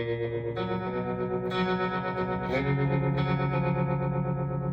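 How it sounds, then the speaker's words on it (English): Electric guitar played through a tremolo pedal on a pedalboard, sustained distorted chords ringing out with a wavering, effect-laden tone and no voices. "This pedal as a tremolo sounds incredible."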